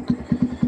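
A Yamaha Vixion Supermoto motorcycle fitted with a Domino single-cable quick throttle, its engine giving short, rhythmic revs that pulse roughly every 0.2 seconds, close and moderately loud.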